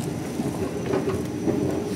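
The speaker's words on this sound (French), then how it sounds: "le métro, le BTS, ça s'appelle un MRT. C'est dans le sol." A Bangkok MRT underground metro train rumbles steadily in a subway station, a loud, continuous low roar with faint rhythmic wheel clatter and no talking.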